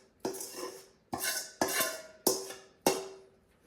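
Roasted cabbage and onion being moved onto a metal baking sheet: five distinct clattering scrapes and clinks of utensil against pan, evenly spaced, close and moderately loud, with no talk.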